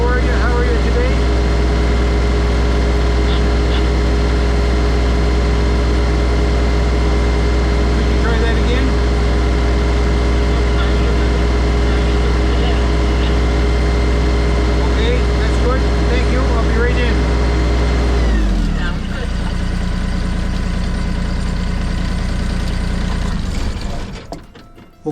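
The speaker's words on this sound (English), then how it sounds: "shut the tractor off for that." A tractor engine idles loudly and steadily close by, a deep constant drone that abruptly winds down and stops near the end, leaving near silence.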